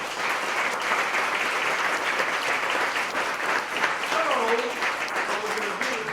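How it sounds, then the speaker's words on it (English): Sustained applause from an audience thanking a community discussion panel at Hull House, steady and full for the whole stretch, with voices and a few cheers mixed into the clapping. "Give them a big round of applause."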